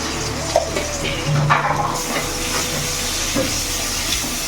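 Spices with garam masala frying in a pan give a loud, steady hiss and sizzle, with a few soft clinks and scrapes of cookware close by.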